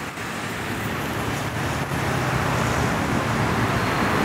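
A Chrysler Town & Country minivan moving through street traffic at Largo Antonio Bordin in Curitiba, Brazil, heard as a steady, loud roar of engine and tire noise against the surrounding road rumble, with no talking.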